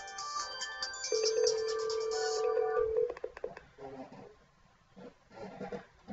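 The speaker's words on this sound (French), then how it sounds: "Voilà, ça sonne." An Android phone's ringtone plays loudly for about three seconds, a bright melodic tone, then stops and leaves quieter background noise with faint voices.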